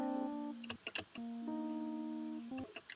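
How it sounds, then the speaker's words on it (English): An electric piano played with the Analog Lab 5 Clean Mark 5 preset, sustaining soft chords and short melodic notes, moving in a slow run alone and close with no talking. "So next I added a electronic piano,"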